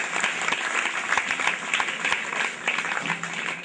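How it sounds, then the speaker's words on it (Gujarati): Steady audience applause at a tree-planting ceremony in Dumara village, dense clapping from many hands filling the whole stretch at an even level, with no voices over it. "તાળીઓથી વધાઈ આપીએ"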